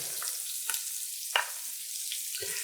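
Garlic and tomato paste fry in a pot for chili, a soft, steady sizzle with a few light stirring taps.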